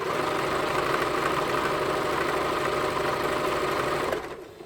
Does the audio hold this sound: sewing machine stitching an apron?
yes